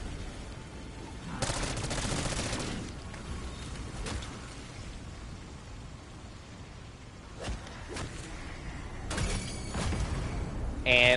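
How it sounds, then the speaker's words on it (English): A cannon fires at a meteorite in Black Ops 6 Zombies, with bursts of heavy rapid gunfire and blasts at intervals against a rumbling game background. "activate the cannon. It will shoot down this meteorite."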